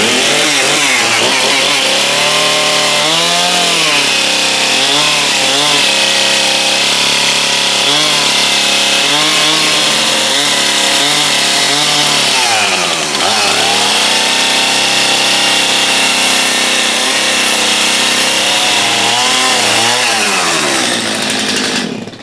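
A chainsaw cuts into a tough old wooden barn beam with little bar oil, a loud, close engine snarl that rises and falls in repeated bursts across the whole stretch, dipping briefly midway before revving again.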